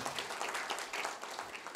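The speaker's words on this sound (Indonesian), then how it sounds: "Boleh tepuk tangan bagi dia saudara." Brief, faint burst of congregational applause at a church sermon, a soft scattered patter of hands with no talking over it.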